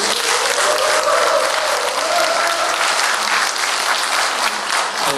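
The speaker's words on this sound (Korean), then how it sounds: "큰 격려의 박수 부탁드립니다" Loud, steady audience applause fills a hall after a county mayoral candidates' debate in Hongcheon, dense clapping sustained for about five seconds with no talk over it.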